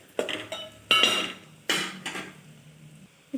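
Spiced mixture frying in a pan as it is stirred, with four distinct metallic scrapes and clanks of a utensil against the pan at irregular intervals over a faint background, no talking.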